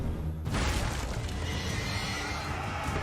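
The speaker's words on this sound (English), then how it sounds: "brings us horses into Chivalry 2 in mounted combat" A horse neighs in a Chivalry 2 game trailer: a loud whinny bursts in after a short quiet start, then rumbling battle noise and distant hoofbeats fill the rest.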